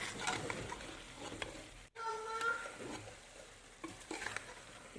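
Chopped ridge gourd is stirred into browned masala in a pan, giving quiet, intermittent spoon scrapes over a faint sizzle, close but soft, with no talking.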